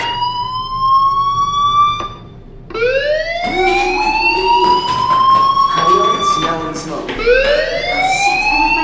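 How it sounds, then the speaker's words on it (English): A fire alarm sounds in the video game Life is Strange as a loud electronic siren. Its rising, harmonic-rich wail repeats about four times with short breaks between sweeps and holds close and steady throughout. "Hey, do you hear that fire alarm? That means you should be outside."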